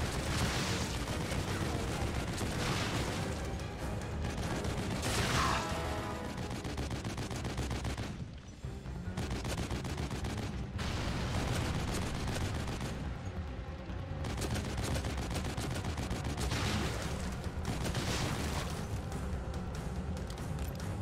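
Sustained, loud minigun fire in the horror video game The Evil Within, a dense continuous roar of rapid shots with brief pauses between bursts.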